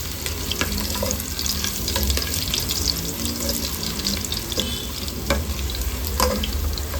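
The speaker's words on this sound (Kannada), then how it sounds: "ಎಣ್ಣೆಯಲ್ಲಿ ಬೆಳ್ಳುಳ್ಳಿ ಚೆನ್ನಾಗಿ ಬ್ರೌನ್ ಕಲರ್ ಬರುವ ಹಾಗೆ ಫ್ರೈ ಮಾಡ್ಕೊಳ್ಳೋಣ." Garlic fries in oil while raw mango rasam is cooked, a steady close sizzle with occasional stirring clicks and scrapes throughout and no talking.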